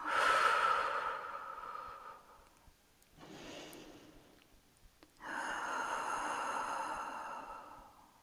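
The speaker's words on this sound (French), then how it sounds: "On inspire et on expire profondément." Slow, deep breaths during a beginner yoga session for the arms and shoulders: a long, audible inhale, a quieter pause, then a strong, airy exhale, all close and alone with no talking.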